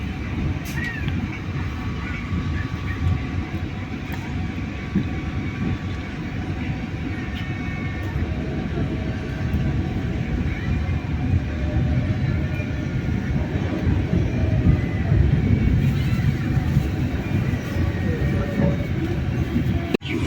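A passenger train, the KA Matarmaja, rumbles steadily nearby while arriving at a station, a continuous heavy rolling drone that grows slightly louder over about twenty seconds, with no clear speech.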